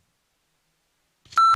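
A censor beep bleeps out a cuss word on a nightly news talk show, a single sharp steady tone that starts abruptly after near silence and runs to the end.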